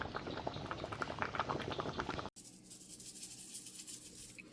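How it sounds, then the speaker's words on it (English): Thick homemade tomato spaghetti sauce bubbles and pops in a pot close by, a dense steady gurgle that cuts out and resumes more softly after an abrupt break. "We're just going to boil it down until it's way thicker."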